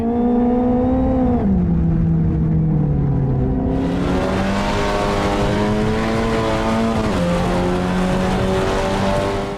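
A race car in a VR sim racing video game: a loud, continuous engine whine that drops at gear shifts and then climbs again, with a harsh burst of tire and road noise cutting in partway through.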